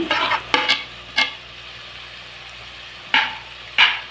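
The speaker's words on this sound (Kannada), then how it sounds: "ಇವಾಗ ಕ್ಲೀನಾಗಿ ಫ್ರೈ ಆಗ್ತಾ ಇದೆ." Vegetables frying in a pan for vegetable pulao, stirred with a spoon in several brisk scraping strokes over a quiet sizzle, near and fairly loud.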